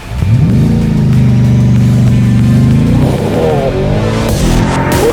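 A supercharged 700-horsepower V8 in a 2023 Ford Raptor R roars hard through a full-throttle launch toward 60 mph, its loud engine note climbing steadily, then shifting and dropping pitch near the end.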